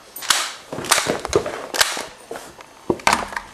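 Sharp cracks from a toy cap gun go off in a quick, irregular series of snaps, some close together and others spaced apart, loud and close with no talking.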